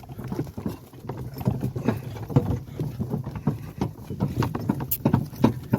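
A large, strong draft mare's hooves clip-clop in a steady rhythm on a road, close by, as she pulls a wagon up a long hill in rural Ternopil, Ukraine.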